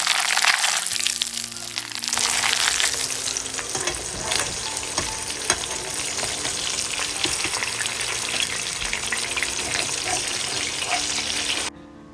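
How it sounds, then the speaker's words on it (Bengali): Steady, loud sizzling of fish frying in hot oil in a pan, with a constant crackle throughout and a brief quieter start. "মাছগুলোকে এখন আগে হালকা ভেজে নিব।"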